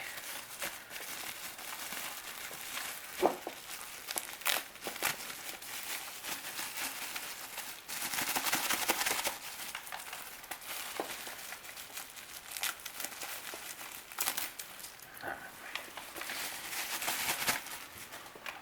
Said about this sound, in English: gotta take it out of its bubble bag